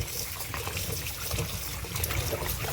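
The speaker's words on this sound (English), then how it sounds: "So I'm gonna wash them thoroughly," Peeled corn, cocoa, carrots, pumpkin and Irish potatoes are washed under running water for red peas soup, a steady close trickle and splash that runs throughout with no talk.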